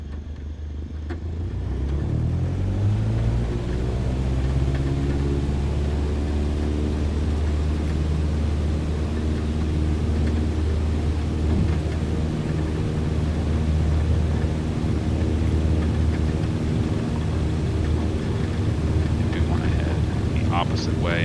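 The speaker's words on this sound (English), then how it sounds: "Cessna November 82 Juliet Alpha cleared for takeoff runway 32 straight out departure approved" A Cessna taking off in Microsoft Flight Simulator 2020, its engine drone swelling in over the first two seconds, then holding as a loud, steady, unbroken roar for the rest of the run.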